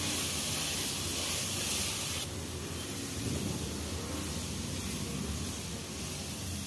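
Potatoes and vegetables frying in a pan for double beans vegetable pulao give a steady, close, dense hiss whose bright top end drops abruptly about a third of the way through, then settles into a softer sizzle.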